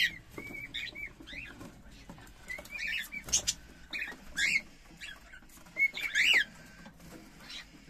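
Budgerigar chicks in a breeding setup give thin, high chirps and short whistled calls in scattered bursts, fairly faint and close, over a quiet background with no talking.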